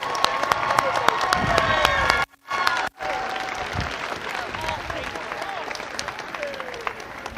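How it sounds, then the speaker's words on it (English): A large crowd at a FIRST Tech Challenge Skystone robotics championship in Washington gives loud, sustained applause for the judges, with cheering and shouts mixed in and a brief dropout partway through. "Let's give them a really loud round of applause."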